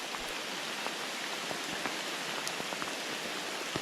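Steady rain falls over a trout-fishing spot, a dense continuous hiss dotted with scattered sharp drop taps, with no voices.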